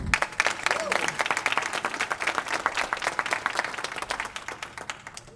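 An audience at a fast pitch competition breaks into lively, dense applause right after a round of judges' questions, loud clapping sustained throughout and tapering slightly at the close.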